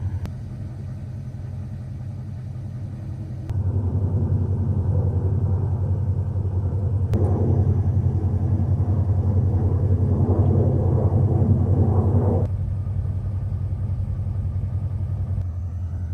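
A Mercedes CL550 fires up from cold: a low idle rumble steps up sharply as the engine catches, holds at a raised, steady drone with a brief swell, then settles back slightly, with no voices.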